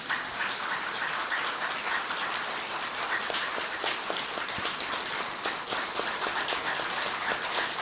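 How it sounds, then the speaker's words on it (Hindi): Audience at a spiritual gathering claps continuously, a dense, even patter of many hands heard throughout at moderate level without talk. "तालियां थोड़ा अच्छी तरह से बजाया जा रहा है।"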